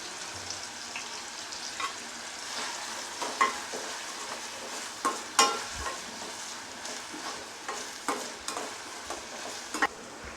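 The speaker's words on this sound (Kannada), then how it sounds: "ಸ್ವಲ್ಪ ಚೆನ್ನಾಗಿ ಫ್ರೈ ಮಾಡ್ಕೊಳ್ಳಿ." Curry leaves and green chillies frying in hot oil for instant rava paddu, a soft steady sizzle broken by sharp spatters and the scrape of stirring, fairly quiet and close.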